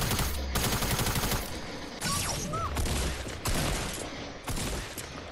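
Loud bursts of rapid automatic gunfire in a Fortnite match, several volleys separated by short pauses, with no one talking.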